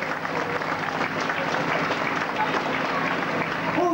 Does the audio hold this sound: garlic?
no